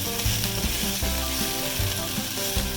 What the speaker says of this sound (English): you're just going to saute the green peppers and the onions and the mushrooms if you added them for about 5 minutes